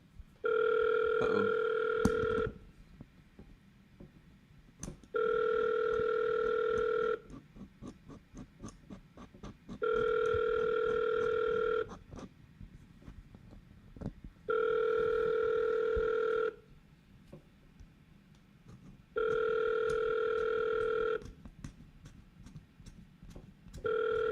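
A CRM auto-dialer places outbound calls, and a phone line rings back in evenly spaced two-second electronic tones separated by pauses, repeating five times over faint background clicks.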